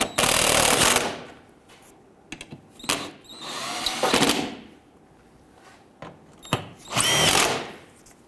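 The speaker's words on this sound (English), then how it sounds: "Let's snug down our 10mm bolts across the front side here." A power tool drives 10mm bolts into the engine splash shield of a 2011-2021 Jeep Grand Cherokee. Several loud, close bursts of whirring and ratcheting come in separate spurts, with quieter clanks and handling noise in the pauses.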